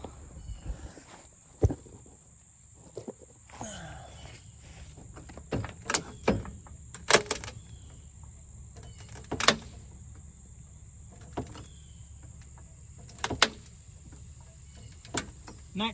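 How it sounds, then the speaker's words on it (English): A 4x4 wood block creaking and cracking under a jacked-up 2001 Silverado 5.3L V8, scattered sharp cracks and ticks over a quiet, close background with a faint high whine. "And that cracking, that's just that 4x4 block I have under there"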